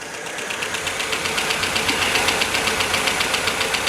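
An MGB roadster engine idles steadily with a rhythmic knocking pulse and faint mechanical vibration, close up, with no voices.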